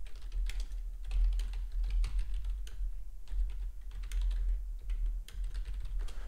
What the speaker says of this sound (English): if you hear typing